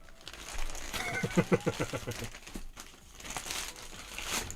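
Packaging crinkles and rustles as a box is unboxed, with a run of quick crackling bursts close to the microphone and lighter handling noises afterward.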